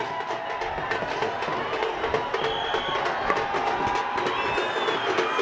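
A large crowd hoots, cheers and dances at a Sunny Deol road show in Punjab, a dense continuous roar of voices with whistles and shouts, steady and loud throughout.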